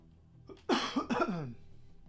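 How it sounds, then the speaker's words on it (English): A cough, a couple of sharp close bursts in quick succession, heard alone in an otherwise quiet room. "Sorry about the cough."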